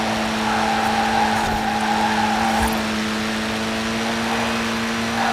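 Continuous car engine drone from the Forza Horizon 4 racing video game in a winter setting, a steady mid-pitched hum with faint tire noise running unbroken throughout, with no speech.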